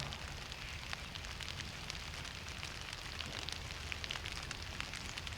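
Soft, steady rain patters continuously at a bushcraft camp, with faint crackling drops scattered throughout and no voices.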